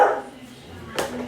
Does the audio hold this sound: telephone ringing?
no